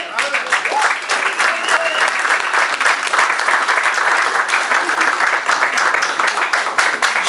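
A church congregation bursts into loud, steady applause for the Lord, dense clapping filling the hall throughout with voices mixed in beneath.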